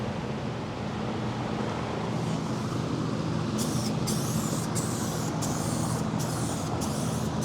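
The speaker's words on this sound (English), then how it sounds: "you're gonna see me spray this Bulldog adhesion promoter on the front bumper and the rear bumper" Bursts of Bulldog adhesion promoter aerosol spray onto a plastic car bumper, several short hissing sprays in a regular rhythm over a steady low rumble of background noise, with no talking.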